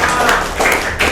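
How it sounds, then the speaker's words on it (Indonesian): An audience claps together at a sharing session, loud, close, overlapping hand claps forming a continuous patter with a few sharper swells. "Jadi boleh tepuk tangan dulu untuk semua kita."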